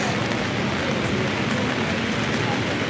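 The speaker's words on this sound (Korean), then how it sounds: "아, 대전역 비가 오네요." Steady rain falls outside Daejeon station in South Korea, a dense, even hiss that holds at constant loudness throughout with no pauses.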